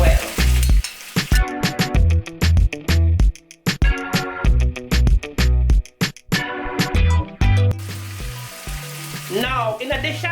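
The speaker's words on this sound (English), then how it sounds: "Now I'm gonna go ahead and add my saltfish in" An Embraer ERJ hidden? no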